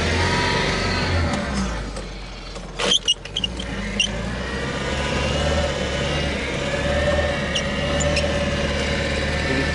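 An engine running at low revs holds a steady, fairly loud low hum for the whole stretch, broken by a brief cluster of clicks and knocks near the middle.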